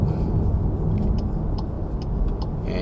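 A 2020 Volkswagen Passat R-Line driving on city roads, with a steady low rumble of engine and tyre noise inside the cabin and a few faint clicks over the drone.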